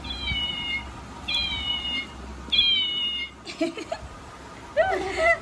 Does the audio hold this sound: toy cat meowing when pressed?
yes